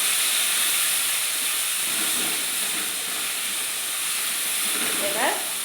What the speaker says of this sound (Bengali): দিয়ে দেব একটু হিং, এবার দিয়ে দেব একটু জিরা বাটা, একটু আদা বাটা,